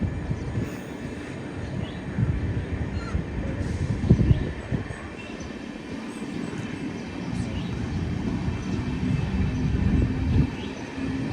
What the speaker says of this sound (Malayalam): അങ്ങനെ KSR ബംഗളൂരു റെയിൽവേ സ്റ്റേഷനെ ലക്ഷ്യമാക്കിക്കൊണ്ട് ഇതാ ട്രെയിൻ ഇവിടെ നിന്ന് എടുത്തിരിക്കുകയാണ്